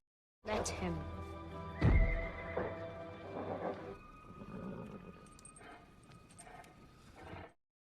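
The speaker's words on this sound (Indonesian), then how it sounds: "Milo berhasil menjinakkan kuda Cassia" A horse in the 2014 film Pompeii lets out a loud, close whinny with a heavy thump partway through, then snorts and fades before the sound cuts off.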